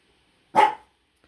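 A single short dog bark rings out once, close and fairly loud, in an otherwise quiet indoor room.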